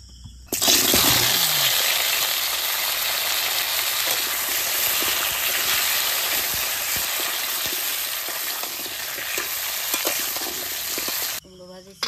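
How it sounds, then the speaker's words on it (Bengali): Oil hits a hot wok (kadai) and breaks into loud, continuous sizzling frying that holds steadily for about eleven seconds before cutting off abruptly, cooking outdoors for khichuri on a rainy day in the Sundarbans. "কড়াই গরম হয়ে গেছে, তেল দিয়ে দিলাম।"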